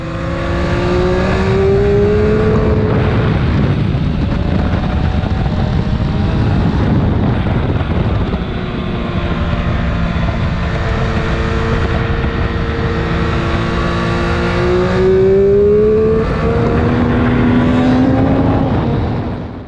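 A Suter 500cc two-stroke racing motorcycle and a 2022 Triumph Speed Triple 1200 RR scream along a racetrack, engines loud and continuous, rising and falling in pitch with gear changes as they pass at speed.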